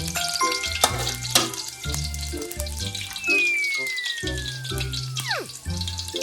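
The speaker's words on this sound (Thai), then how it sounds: "เอากระเทียมมาใส่ นี่ครับ กระเทียมครับ ผัดไปเลย" Garlic stir-fried in a hot pan gives a steady sizzle and crackle with occasional scraping. It plays beneath music tones and a sliding whistle-like effect.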